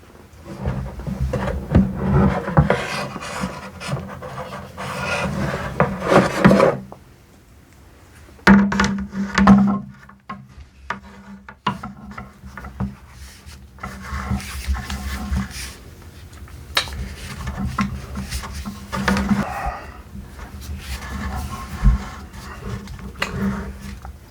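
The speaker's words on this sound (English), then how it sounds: "This is a handheld sander. It's made by a company called Makita." Scratching, tapping and handling noises on a Makita handheld electric sander, irregular close-up clatters and rubs with a brief quieter gap partway through and no talking.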